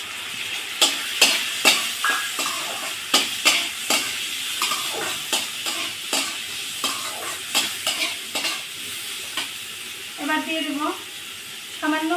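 Chopped jackfruit seeds fry with taro stems in a pan, a soft sizzle running under frequent sharp scraping strokes of a spatula stirring against the metal, close and fairly quiet.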